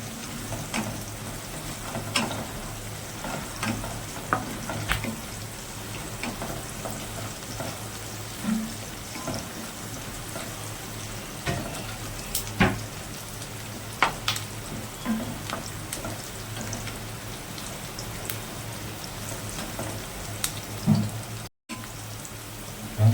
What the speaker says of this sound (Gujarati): કાંદાને બરાબર ફ્રાય કરી લેવો આપણે થોડા સૂકા કડી પત્તા નાખશું